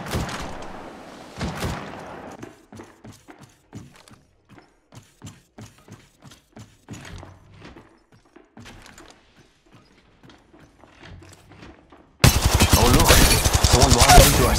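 Apex Legends Mobile gunfire comes in rapid bursts of sharp shots broken by clicking reload and weapon-handling sounds, ending in a dense, loud volley of continuous fire.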